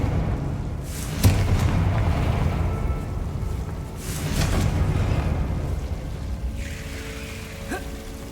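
A Confringo blasting spell going off in Hogwarts Legacy, with booming, whooshing fiery bursts and a rumbling roar that swells twice over a steady background, fairly loud and close, with no talking.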